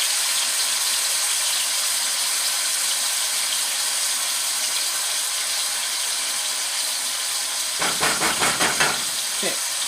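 Lamb and fresh garlic fry in an old frying pan, giving a loud, continuous hiss of sizzling fat; a short burst of scraping and clattering comes near the end.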